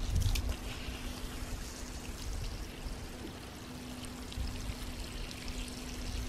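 Water gurgling steadily through a siphon pipe feeding a ram pump, a continuous soft trickling rush with a faint steady hum underneath, fairly quiet and unaccompanied by talk.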